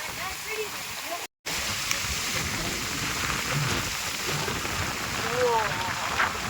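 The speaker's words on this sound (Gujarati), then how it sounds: "કઈ દેખાતું ને એટલો વરસાદ આવે છે." Steady heavy rain pours down over village farmland in a dense, continuous hiss, with a voice speaking faintly beneath it.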